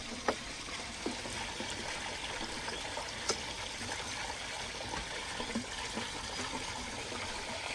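Mountain stream water is let flow to drive a water-powered rotating meat grill, a steady soft rush and trickle with a few faint clicks and knocks scattered through it.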